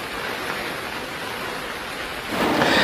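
Steady heavy rain pours on an outdoor police recruitment ground in Maharashtra. A continuous broadband hiss is joined by a swelling rumble of thunder near the end, and no voices are present.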